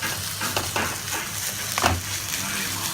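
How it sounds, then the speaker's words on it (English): Re-fried rice is stirred in a pan with olive oil, a steady sizzle of frying under the scrape and clatter of the utensil against the pan. "I'm gonna stir that in there. Get that all stirred in there."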